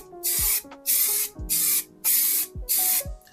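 Spray paint hissing onto the shoulder belt trim clips and bolt covers of a 1970 Plymouth Custom Suburban, laid down in five even bursts of about half a second each, close and loud with short pauses between passes.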